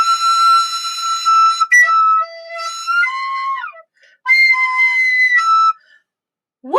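A wind instrument squeaks with shrill, wavering whistle tones and pitch breaks because the fingers are not fully covering the holes, played alone in short bursts with brief pauses.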